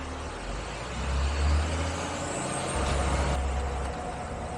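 Old right-hand-drive truck driving past on a Sicilian street, a deep engine rumble swelling and easing as it passes nearby, with a hiss near the end.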